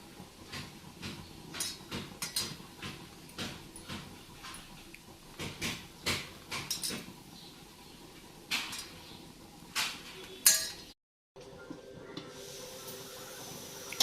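Boiled, peeled potatoes are cut into pieces with a knife, giving faint scattered taps and soft scraping at an uneven pace. The sound drops out briefly near the end, and a steady hiss follows.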